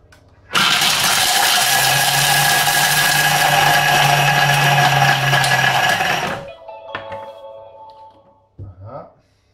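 Thermomix TM5 grating at speed 10 for a mud cake, a loud steady motor whir with blade clatter that runs about six seconds, stops abruptly, then a few faint clinks and rustles follow.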